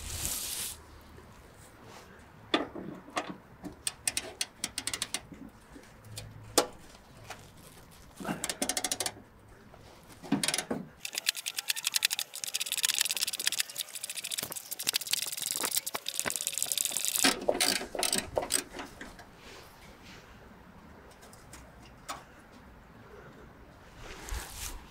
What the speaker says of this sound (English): Now that was pretty difficult to get in to with a ratchet like that.